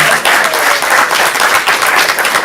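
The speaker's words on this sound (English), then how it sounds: "Give her a round of applause." A comedy-club crowd claps steadily and warmly after a stand-up set at a student showcase, a dense sustained round of applause with no talking over it.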